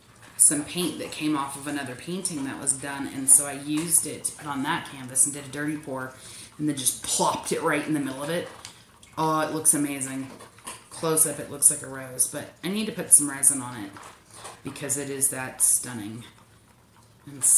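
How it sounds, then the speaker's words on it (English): A puppy eating its food makes faint, repeated clicking sounds beneath a woman's steady, close talking throughout. "My puppy has decided that she needs to eat right now"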